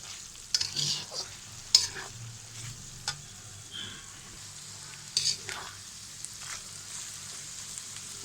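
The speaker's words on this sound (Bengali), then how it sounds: "ঢাকনাটা খুলে আলুটাকে লাল করে ভেজে নেব" Potatoes fry with garam masala and cumin powder in a pan of tripe bhuna, a soft steady sizzle broken by several sharp scrapes of stirring, quiet and close with no talk.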